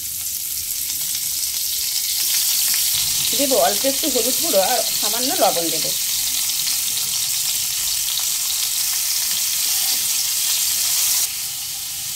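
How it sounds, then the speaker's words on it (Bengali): Cauliflower florets fry in a little white oil in a wok over medium flame, giving a continuous close sizzle. A person speaks briefly over it partway through. "মিডিয়াম ফ্লেমে 4 থেকে 5 মিনিট কপিগুলোকে নেড়ে চেড়ে ভেজে নিয়েছি"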